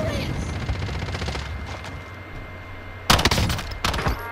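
Video game gunfire from Call of Duty Cold War Warzone: a dense busy mix of in-game shots and battle noise, with louder close bursts near the end, while players talk over it.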